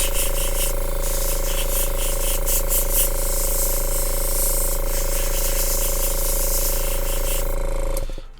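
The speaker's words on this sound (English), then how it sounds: "We'll dry this off with the airbrush. I'm just using air, no paint." An airbrush blowing plain air at low pressure to dry base coat paint on a model kit, making a steady close hiss over a constant hum that cuts off at the end.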